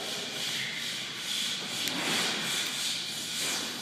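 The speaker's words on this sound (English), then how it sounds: "They're laying 2-inch tile on the floor in the wet areas." Workers lay 2-inch tile on a wet-area floor in a fitness club under construction, giving a continuous gritty rubbing and scraping hiss that swells and eases in a noisy, echoing room.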